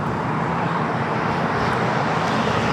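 A jet airliner roars loudly and steadily while departing from LAX, its broadband engine noise filling the scene without pause.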